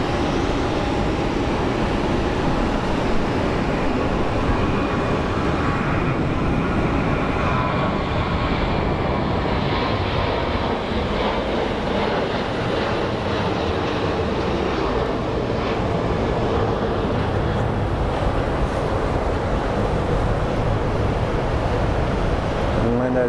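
An American Airlines jet at Phoenix Sky Harbor Airport, a loud, sustained engine roar and rumble that holds steady throughout, with a faint voice now and then underneath.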